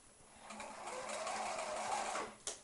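A sewing machine stitching a kitchen hand towel, running in one steady, close whirring burst for about two seconds before stopping with a short mechanical clunk.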